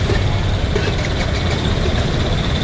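Traffic jammed by heavy rain and potholes in Vasai Virar: a loud, continuous wash of rain and idling engines, with trucks and tempos rumbling close by and no break in the noise.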